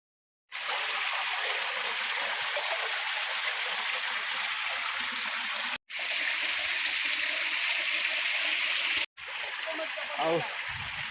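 Dokrichanchra Waterfall, a steady broadband roar of falling water and a flowing stream, loud and constant throughout, with two brief cuts and faint voices near the end.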